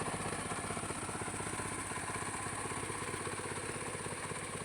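A motor pump runs steadily while spraying copper sulphate and lime on areca palms, giving a continuous loud, rapid chugging drone with no breaks, close by and alone.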